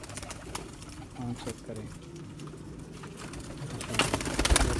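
A home-bred pigeon held in the hand for inspection, cooing softly close by while someone talks over it throughout.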